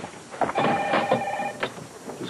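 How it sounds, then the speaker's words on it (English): A telephone rings indoors amid a tense conversation, giving a couple of brief bell-like bursts over quiet room noise. "I'll get that phone."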